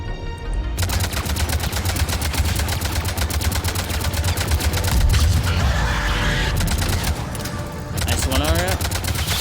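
Rapid, sustained automatic gunfire in the shooter Mass Effect 3, loud and close, rattling almost nonstop for the whole stretch with brief shifts in intensity and a short pause near the end.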